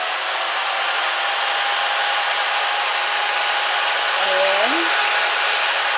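A newly unboxed Melodie Susie dust collector runs with its suction on, giving a steady, loud airy whoosh that holds for the whole stretch. A voice speaks briefly underneath.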